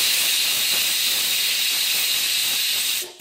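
A pressure cooker boiling Goan meat stew lets out a loud, steady rushing steam hiss that holds for about three seconds, then fades quickly.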